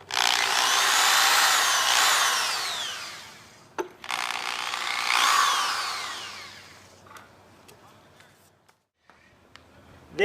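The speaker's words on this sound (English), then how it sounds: "you can drill your pilot holes." A power drill bores pilot holes for a subwoofer bracket in a Ferrari 360/430 coupe: two long whining bursts whose pitch rises and falls, followed by a few short clicks and knocks.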